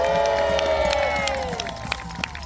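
Crowd at the Arundel Castle history festival cheers and claps for the gunners, a broad roar of voices and applause that swells at first and then tapers off, with a few sharp claps standing out near the end.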